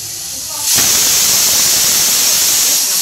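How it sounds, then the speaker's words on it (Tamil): A sudden loud burst of hissing steam kicks in and keeps going, steady and harsh, like a pressure cooker releasing pressure close by while cooking goat bone soup. "இப்போ இது வந்து ஒரு எட்டு விசில் வரட்டும்"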